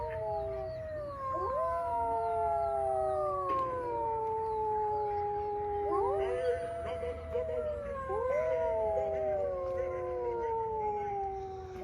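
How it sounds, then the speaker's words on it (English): Animatronic wolves in a Halloween yard display howl in long, overlapping, wavering calls, several voices rising and falling together over steady background hum, fairly close and loud. "We got our wolves over here howling."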